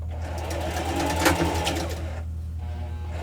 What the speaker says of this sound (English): We're going to sew this down again.